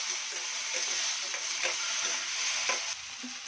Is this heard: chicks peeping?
no